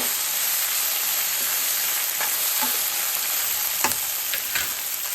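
Vegetables frying in hot oil in a home kitchen, a constant close, loud hiss of sizzling with a few faint taps of stirring, no talk.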